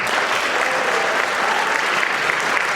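A concert crowd at a Celtic summer concert applauds the flag bearers, a loud, dense, sustained wash of clapping with no breaks throughout.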